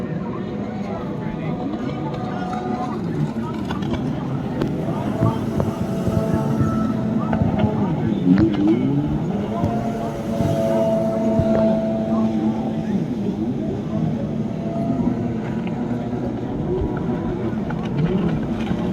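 Motorboats race at the Harbour Beach boat competition in Michigan, their engines droning steadily across the water amid wind noise on the microphone, with voices talking over the scene.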